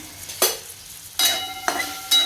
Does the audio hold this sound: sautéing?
yes